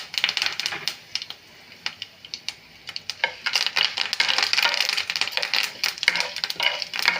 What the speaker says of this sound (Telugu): పోపు దినుసులు వేద్దామండి.